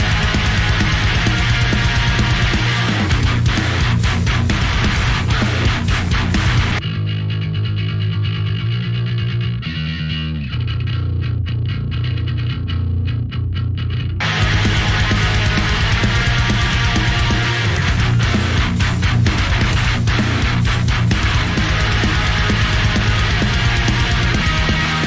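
A bass track driven through the JST Bassforge Hellraiser distortion plugin, heavily saturated and loud throughout, with a filtered, thinner passage in the middle before the full distorted tone returns.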